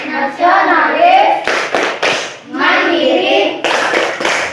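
Schoolchildren in a classroom do the Tepuk PPK clap routine, with sharp group claps in short bursts alternating with loud chanting voices, near and full.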